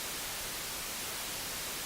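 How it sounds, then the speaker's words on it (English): A steady wash of synthesized white noise, hissing evenly across the whole range with no variation, moderately quiet and alone. "So we've got some white noise,"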